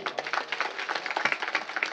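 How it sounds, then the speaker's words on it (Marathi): An audience at a Marathi kirtan devotional gathering claps together in a steady, dense patter of overlapping hand claps, fairly close and continuous with no talking. "टाळ्या वाजवा."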